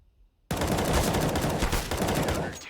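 A sudden loud burst of rapid gunfire in an online shooter esports match, bursting out of near-silence and rattling on continuously to the end.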